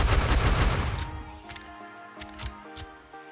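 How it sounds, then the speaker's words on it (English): Gunfire from a homemade first-person shooter game: a rapid burst of synthetic shots at the start, then a few scattered single clicks and mechanical reload-like sounds over a faint tonal background, close and clear. "So now when we play the game, you see that when we shoot, animation still fires"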